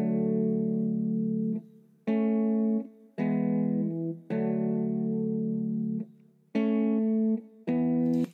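Afrobeat guitar sample with the low end EQed out, a clean, thin melodic line of sustained notes in short phrases with gaps between, close and fairly quiet, heard alone.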